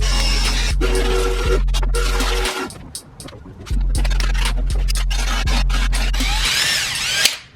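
A power tool, likely a drill with a bit, grinds a taper into the end of a wheel lug hole while working on a brake problem on an LS-swapped Blazer. It runs loud and steady in long bursts, with a short pause and some scraping between runs.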